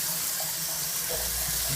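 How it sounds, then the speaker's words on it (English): Tap water running strongly into the tub of a small Useful UH-CW204 portable electric washing machine, a loud steady close splashing gush, heard alone. "I'm going to put the water on a little stronger right now."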